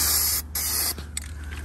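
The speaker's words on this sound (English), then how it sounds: "Do a little spray on the bottom." A loud, close aerosol hiss of lubricant sprayed onto a rusty chain of a Chevy Mule 350 blasts in short bursts, cutting out briefly and then spraying again before tapering off.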